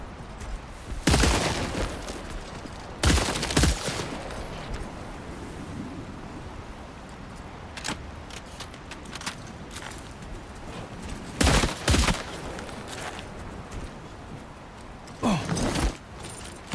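Sporadic gunfire in Death Stranding 2, a handful of sharp, loud shots spaced several seconds apart over a steady hiss of ambient noise, with faint mechanical clicks between them.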